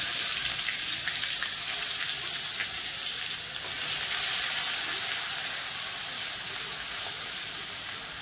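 Cumin and whole spices sizzle in hot oil in a pan while veg pulao is cooked, a steady hissing crackle that stays even and continuous throughout with no talking.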